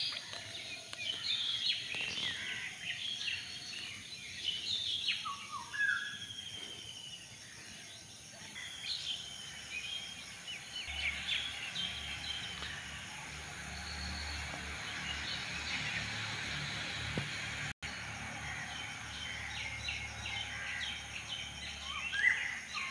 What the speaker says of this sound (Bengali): পাখির কিচিরমিচির শব্দ শোনা যাচ্ছে